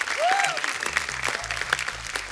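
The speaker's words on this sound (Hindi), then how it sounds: "जोरदार तालियां बादशाह पाजी के लिए" Loud applause from a large TV studio audience fills the clip, steady clapping with crowd noise and a few whoops over it, greeting Badshah on The Kapil Sharma Show.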